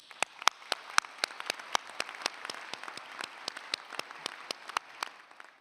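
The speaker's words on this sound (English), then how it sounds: "You and your class officers deserve a round of applause." Audience applause at the Rutgers School of Dental Medicine 2023 convocation, a steady crowd clapping with sharp individual claps standing out, sustained and moderately loud throughout with no talk over it.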